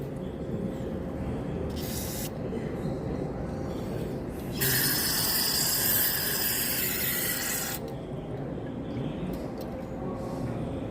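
Cleaner sprayed into the jet of a lawn mower engine carburetor, a faint hiss with a louder burst of spray lasting a few seconds in the middle, heard close up.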